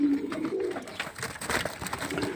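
A pair of pigeons, a King male and a French Mondain female, coo in low, rolling, repeated calls close by, with soft rustling and movement around them.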